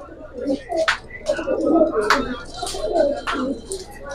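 Old-breed Babra pigeons coo repeatedly in soft, throaty bursts close by, with sharper chirps and flutters breaking in between.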